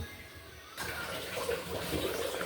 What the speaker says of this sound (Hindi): तब तक मैं चावल पानी से निकाल लूँ।